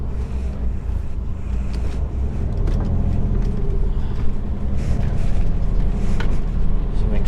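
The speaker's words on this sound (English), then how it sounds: "Stick her in fourth gear and keep her there" A car tows a step frame trailer uphill, held in fourth gear, its engine a steady low drone with broadband road and wind rumble that grows slightly louder toward the end.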